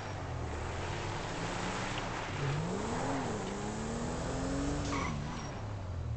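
A tuned, turbocharged Supra sports car speeds along in GTA 5 with a steady, dense engine roar; the revs swing up and down mid-run and tires squeal faintly, with no talk over it.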